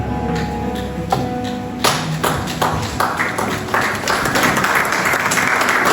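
A church congregation applauding during a sermon, scattered claps and taps building into dense, sustained applause that fills the room.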